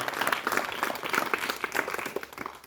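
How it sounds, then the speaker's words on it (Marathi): An audience at a speech on Dr. Babasaheb Ambedkar claps to welcome a speaker. The applause is dense and lively from many hands and fills the moment without talk. "त्याबद्दल तिचं पुन्हा एकदा टाळ्या वाजवून स्वागत करूया आपण सर्वांनी"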